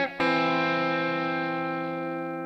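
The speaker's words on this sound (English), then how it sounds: "So set your Vox style amp to the edge of breakup and it sounds like this." A Telecaster rings out one chord through a Vox-style amp set at the edge of breakup, a slightly gritty, bright strum that sustains and slowly decays, heard alone and close.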